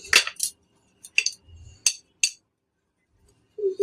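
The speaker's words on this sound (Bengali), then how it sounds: "কাবলিটাকে মাখাই" A spoon clinks sharply against a bowl while aloo kabli is mixed, five or six bright, separate taps spaced irregularly over a quiet background, with a short murmur near the end.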